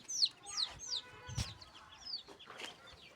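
A lone chick clucks softly several times in a quiet setting, with short chirpy calls and a brief thump partway through.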